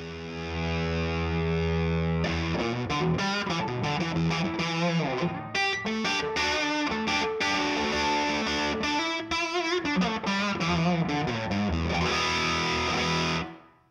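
Electric guitar played through a Suhr SL67 amp head at whisper-quiet volume, a distorted, effects-laden tone with a sustained opening chord followed by busy riffing and chords, steady and close for about fourteen seconds before fading out.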